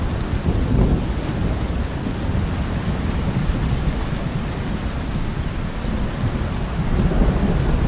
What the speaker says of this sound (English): Finally, the rains come.